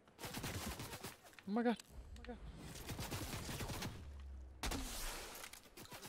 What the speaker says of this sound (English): We're getting shot at from a team behind us.